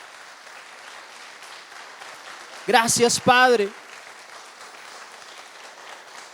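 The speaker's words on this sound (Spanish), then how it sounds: "Dale un fuerte aplauso al Señor" A church congregation claps in steady applause throughout, and a voice briefly speaks over it midway.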